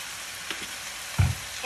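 Sauces poured into stir-frying pad thai in a hot pan, a steady close sizzle with a sharper hiss and bubbling burst as the liquid hits the pan near the end.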